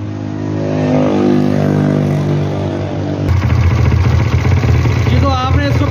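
A motorcycle engine runs steadily while its carburetor is adjusted, a close, even idle that changes to a rougher, busier note partway through, with a short rising whine near the end.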